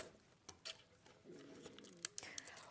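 Scissors snip open packaging holding sewing thread spools, a few faint close-up clicks and cuts with soft rustling of plastic in a quiet room.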